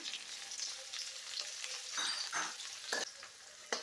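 Onions fry in hot oil with mustard seeds and urad dal, a low steady sizzle broken by spatula stirs and a few scraping clinks against the pan, fairly quiet and heard without talk.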